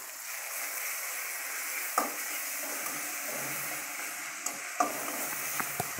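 Taro stalks sautéing in a pan with blended garlic, a steady broadband sizzle broken by a few sharp spoon-scraping clacks, close and moderately loud, with no talking.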